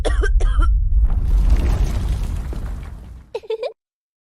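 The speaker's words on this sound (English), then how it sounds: "She's coughing like a volcano." A girl coughs hard in one long, forceful burst that sounds almost explosive and then trails off, with brief voices just before and after it.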